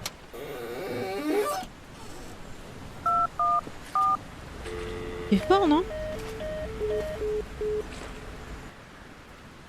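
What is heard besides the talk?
telephone dialing with no signal in a video game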